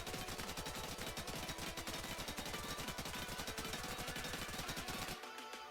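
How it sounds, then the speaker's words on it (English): A high-recoil FAL rifle in the game Incursion Red River fires on full auto with the trigger held down. The rapid, evenly spaced shots run for about five seconds and stop abruptly. "This here is my higher recoil FAL, and once again, I'm holding down the trigger, but I'm not adjusting for the recoil."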